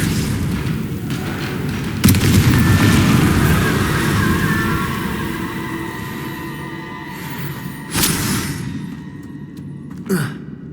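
A Confringo explosion spell in Hogwarts Legacy goes off with a sharp booming blast, then a dense rumbling roar that slowly fades. Two smaller bursts follow later, and no one speaks.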